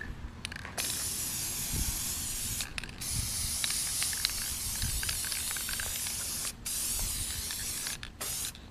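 Aerosol can spraying clear sealer coat onto gourds outdoors: close, sustained hissing bursts with short gaps between them as each gourd is coated, and faint rattles and clicks in between, no talking.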